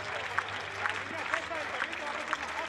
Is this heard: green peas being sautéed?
no